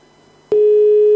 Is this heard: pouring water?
no